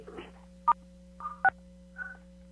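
Telephone keypad DTMF tones on a conference call line, two sharp, brief beeps a little under a second apart, with softer tonal blips and a steady line hum around them.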